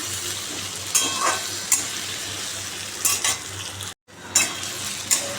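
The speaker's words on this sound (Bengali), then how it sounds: "আলুটা লাল করে ভাজা হয়ে গেল" Potatoes fry until reddened in a pan at a home dinner, a steady close sizzle broken by several sharp stirring scrapes and clinks, with a brief cut to silence near the end.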